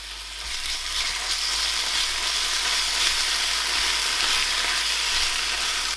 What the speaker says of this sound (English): So we'll start frying this onion.